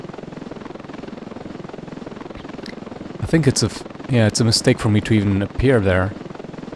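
Steady rotor chop from a helicopter in the video game Ravenfield runs throughout at moderate level, with someone talking over the second half.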